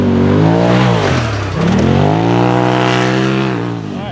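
A 2022 Polaris RZR Pro R side-by-side racing around a track, its engine loud and close, revving hard, dropping briefly as it shifts or slows, then climbing again and easing off at the end.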